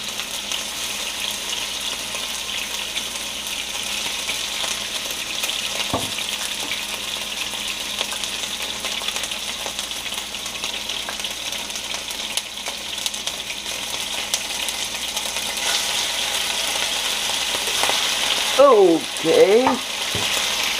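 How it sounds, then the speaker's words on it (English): Lamb stew meat fries in a pot with oil, giving a continuous, moderately loud sizzle with no voices; near the end there is a brief flurry of stirring scrapes and clatter. "We're about ready to add the meat and let it fry."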